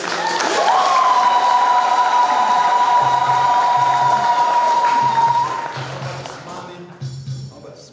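Applause from a church congregation at a Catholic parish handover ceremony in Kimashuku, loud and sustained for about five seconds, over a steady held tone, then fading out.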